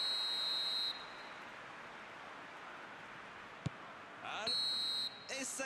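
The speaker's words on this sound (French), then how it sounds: "le coup de sifflet final de l'arbitre" A referee's final whistle in a football video game, shrill sustained tones at the start and again near the end over steady crowd noise, with a sharp click in between.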